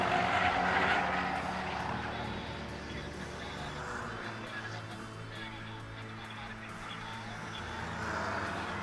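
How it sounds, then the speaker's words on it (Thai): Honda City Hatchback one-make race cars run through a race, their engines a steady broadband roar with skidding tyres, heard under a Thai commentator's continuous talk. "เกรียงไกรกำลังจะเข้าป้ายมาในอันดับที่12ครับ"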